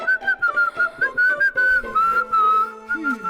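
A person whistles a lively melody up close, the bright tone warbling in short phrases with brief pauses between them, loud and alone with no talking.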